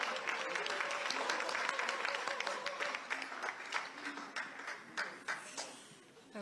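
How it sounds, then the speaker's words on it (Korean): An audience of lawmakers applauds the new prime minister's arrival at a party meeting, a dense wash of clapping that thins into scattered individual claps toward the end. "한성숙 신임 국무총리를 큰 박수로 맞이해 주시기 바랍니다."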